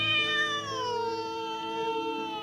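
A cat meows in one long, drawn-out call that slides downward in pitch, close and fairly loud, with no talk over it.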